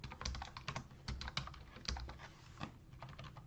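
Rapid clicking of keys on a computer keyboard, a quick irregular burst of close, crisp taps with brief pauses, heard alone in a quiet room.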